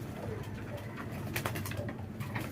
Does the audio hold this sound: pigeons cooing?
yes